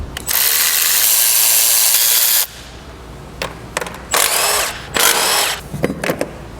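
Ratchet pulling wiring harness studs off a car engine: a long fast buzzing rattle of a power ratchet, then several short bursts and clicks, loud and close, with no talking.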